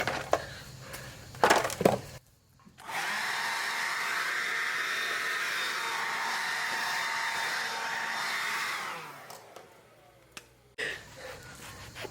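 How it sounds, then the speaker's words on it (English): A big air blower blasts dust off a vehicle axle job, a loud steady broadband rush running about seven seconds and then cutting off, with brief clatter before and after. "I'm going to blow this dust out in a second."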